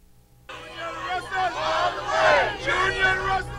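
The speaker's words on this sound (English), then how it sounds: "A jubilant crowd of supporters from Grand Bahama traveled to New Providence to witness the ratification of Senator Julian Russell" Jubilant crowd of political party supporters from Grand Bahama gathered in New Providence for a senator's ratification, loud excited cheering and voices swelling in waves, close and dense after a quiet start.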